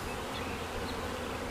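Honey bees buzz and fan at a swarm caught in an arborvitae, a dense, steady, close hum that fills the short stretch with no voices.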